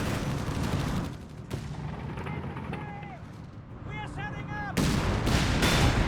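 Battle noise from the strategy game Company of Heroes 3 during Axis rocket artillery strikes, with booming blasts, gunfire and whistling rockets at close range, while a commentator talks over it.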